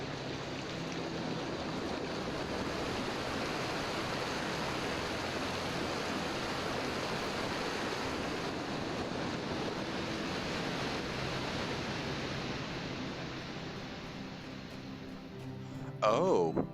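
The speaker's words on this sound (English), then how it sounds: "The waterfalls." Waterfalls in the VR game The Talos Principle rush as a steady broad roar of falling water, close and constant for the whole stretch, with a brief clatter near the end.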